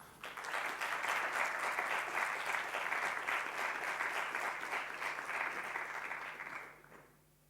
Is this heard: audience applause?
yes